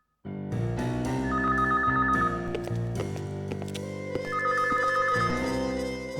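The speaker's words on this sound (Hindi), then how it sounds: "मेरी वाइफ का फोन है।" A phone rings with a musical ringtone, a sustained melodic tune with repeating high phrases that plays loud and alone for several seconds after a sudden start.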